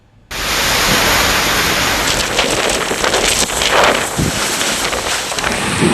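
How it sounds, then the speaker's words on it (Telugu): Heavy rain pouring during storms with gusty winds in Andhra Pradesh, heard as a loud, steady broadband roar that starts abruptly and holds throughout, with some wind buffeting on the microphone and no talking. "ఏపీలోని పలు జిల్లాల్లో భారీ వర్షాలు పడుతున్నాయి"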